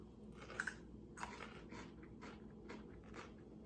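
Close, quiet crunching as someone bites and chews a crisp piece of apple, a string of brief crisp crunches in an irregular rhythm.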